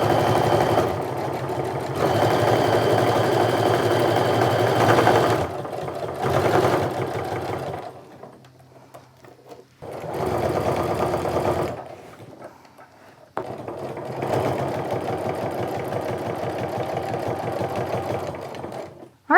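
Sewing machine top stitching a quarter inch from a seam on a fabric sling bag, running in several steady whirring bursts separated by short pauses, close and loud with no talking.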